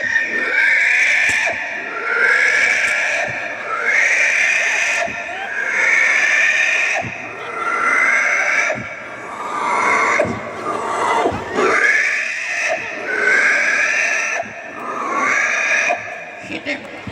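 A pig squeals and grunts loudly over and over in a strained, drawn-out series of cries, filling the whole stretch with little pause while people talk nearby.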